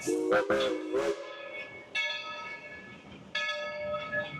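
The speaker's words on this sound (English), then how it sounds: "Here comes the train." A train arriving at Dollywood theme park gives off a loud bell or whistle-like harmonic tone, first in several short bursts, then as long sustained blasts near the end, over outdoor park ambience.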